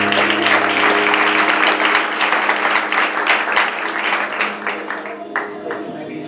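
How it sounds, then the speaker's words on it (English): Church congregation clapping their hands in praise, loud and continuous at first with some voices underneath, then thinning into scattered claps. "Would you clap your hands for the Lord?"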